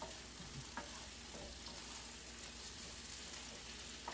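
Onions fry in a whole stick of melted butter in a pan, giving a continuous soft sizzle broken by a few scraping stirs, faint and fairly close with no talking.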